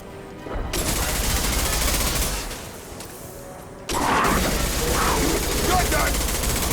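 Sustained gunfire from a Mass Effect 2 firefight, dense and continuous with a loud burst of shots and blasts resuming near the end, under game music and mechanical clatter.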